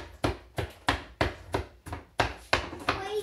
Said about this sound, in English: Crazy chopping. Just keep chopping.